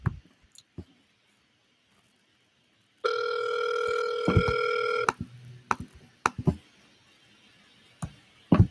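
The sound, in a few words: telephone ringing with incoming call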